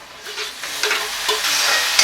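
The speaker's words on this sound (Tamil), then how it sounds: "இப்போ தக்காளி போட்டுக்கலாம்." Chopped tomatoes go into a pan of sautéed onions for a banana flower vadakari, with a steady close sizzle and scraping stirs over it.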